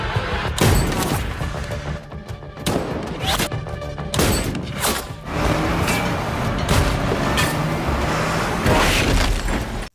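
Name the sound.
gunfire in a long-range sniper shootout from a film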